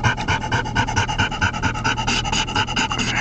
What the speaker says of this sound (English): Look how happy this dog is.